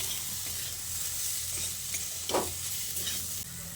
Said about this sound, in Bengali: নুন আর হলুদের গুঁড়োটা দিয়ে আবারও আলু আর বেগুনের সঙ্গে ভালো করে নেড়ে চেড়ে মিশিয়ে নিচ্ছি